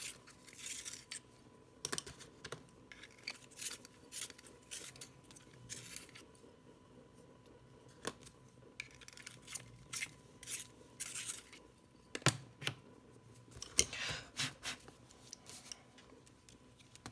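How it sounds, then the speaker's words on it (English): Quiet scratchy grinding bursts of coloured pencils being sharpened, repeated in short irregular spells with pauses between. "Let's sharpen the pencils."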